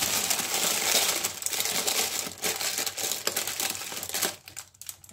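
A plastic bag crinkles loudly and close as it is pulled out of a chocolate tart shell baked 20 minutes at 180 degrees, with dense rustling that thins into a few sharper crackles near the end.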